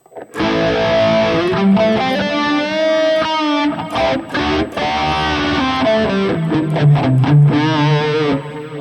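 A high-gain electric guitar lead runs through a GP-200 with an S-Phase phaser model, Road King cabinet IR, delay and reverb, sustaining loud distorted bends and held notes with a subtle sweeping phase.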